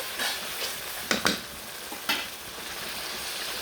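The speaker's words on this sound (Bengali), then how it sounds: "এই যে এখন মশলাগুলো কিন্তু ভালোভাবে কষানো হয়ে গেছে" Spices sautéing in a pan for a rui fish curry, a soft continuous sizzle with a few sharp scraping stirs of a spoon against the pan, close and moderately quiet, no voices.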